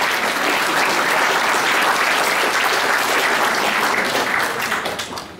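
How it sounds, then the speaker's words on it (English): A crowd at the Westport seniors party applauds loudly and steadily, a dense continuous roar of clapping that holds for several seconds before tapering slightly at the end. "give yourselves a round of applause because we would not have got there without you"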